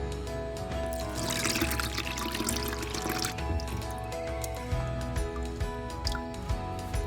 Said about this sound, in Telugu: మళ్ళీ ఇంకోసారి కూడా నీళ్ళు పోసి చూడాలి